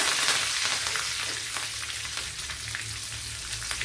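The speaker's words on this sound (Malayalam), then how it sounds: "ഇതിലേക്ക് ഇനി കുറച്ച് കറി ലീസും കൂടെ ഇട്ട് കൊടുക്കാം" Curry leaves crackle in hot coconut oil with mustard and fennel seeds while onion pickle is being made, a loud, close, dense spattering sizzle that stays steady and slowly eases.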